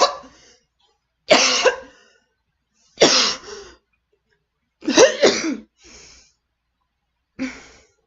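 A person coughs hard and chokes in repeated harsh bursts, about five fits separated by short silences, with rattly breathing between them, close and loud, no talking.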